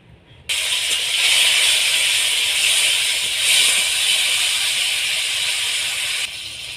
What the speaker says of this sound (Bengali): টমেটোটাকে হালকা ভেজে নেব।